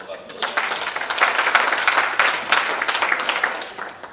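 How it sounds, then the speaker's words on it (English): Audience applause for technicians at an event, a sustained round of clapping that swells and holds for several seconds, loud and close. "Please give them a round of applause."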